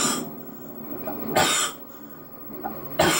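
A person gives three short, harsh coughs, spaced roughly evenly, close and fairly loud, with quiet breathing between them and no talk.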